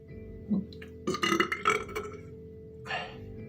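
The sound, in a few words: hiccups after drinking water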